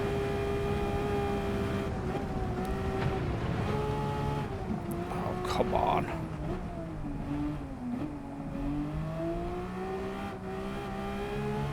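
Race cars lapping the Nürburgring in Gran Turismo 7, a steady engine drone with shifting pitch as the cars close in, loud and continuous under a brief spoken exclamation.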